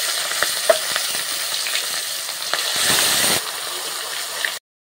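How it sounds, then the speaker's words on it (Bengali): Rui fish pieces fry in hot mustard oil in a kadai, a loud continuous sizzle and crackle with occasional spatters, then abruptly falling silent. "তেলটা গরম হয়ে গেছে, মাছগুলো ভেজে নেব।"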